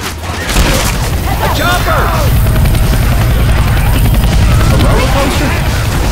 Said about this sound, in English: A chopper!